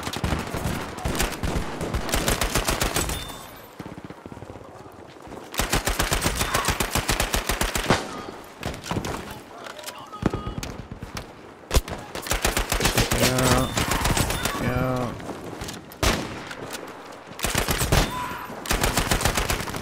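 Rapid Grease Gun submachine gun fire in Battlefield 5 gameplay, several loud sustained automatic bursts separated by short pauses, with other game effects in between.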